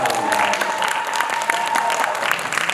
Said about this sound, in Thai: ปรบมือให้หน่อยได้ไหม ครับ